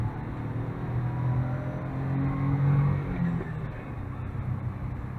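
A Daihatsu Atrai turbo kei van's engine pulls under acceleration, a steady low rumble swelling slightly mid-way and easing back, heard from inside the cab with no talk.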